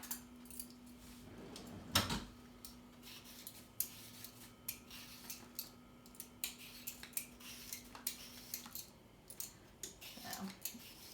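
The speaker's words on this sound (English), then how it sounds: "So we'll start by peeling a couple of carrots." Carrots being peeled by hand for an enchilada casserole, giving a run of soft, repeated scraping strokes at close range with a sharper knock near the start and a faint steady hum underneath.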